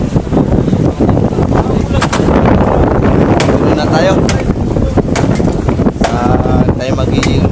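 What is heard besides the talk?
strong wind at sea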